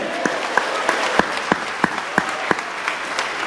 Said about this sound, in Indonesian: Boleh tepuk tangan dulu yang meriah, Ibu.